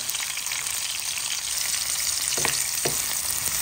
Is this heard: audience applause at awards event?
no